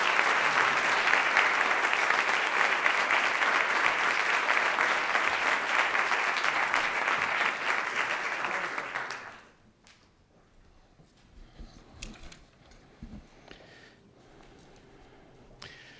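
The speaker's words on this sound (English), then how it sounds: "let's give another round of applause" A college audience at a lecture event bursts into loud, dense applause that runs steadily for about nine seconds, then cuts off into quiet room noise with a few faint knocks.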